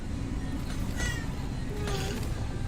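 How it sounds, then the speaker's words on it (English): A cat meows loudly twice, short rising-falling cries about a second apart, heard close over a steady low background hum with no talking. "He came in and he was meowing at Pax so loud"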